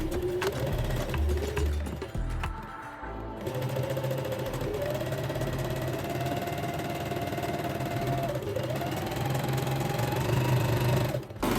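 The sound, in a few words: sewing machine sewing center back seam of dress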